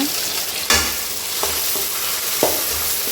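Onions and finely chopped tomatoes sautéing in a pan for a village-style fish curry, with a steady sizzle broken by three distinct stirring scrapes spaced about a second apart, close and fairly loud with no talking.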